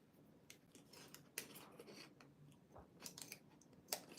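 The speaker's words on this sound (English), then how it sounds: "So what I think I want to do is cut out" Scissors snipping a small circle out of paper for a journal page, a close series of crisp cuts with irregular rhythm, quiet and alone.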